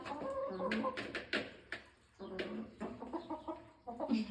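Hungry chickens cluck in short, uneven bursts close by, several birds overlapping with brief pauses between calls.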